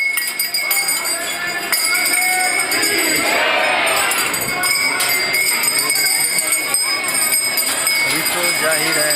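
A dense crowd of pilgrims packs the Khatu Shyam temple during the aarti, a continuous loud murmur of many voices with bright bell-like ringing and metallic chiming throughout, close and enveloping.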